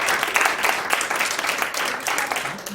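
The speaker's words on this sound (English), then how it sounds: "Another round of applause, everyone." Listeners at a meditation talk give a round of applause, a lively burst of many hands clapping with uneven peaks that eases off toward the end.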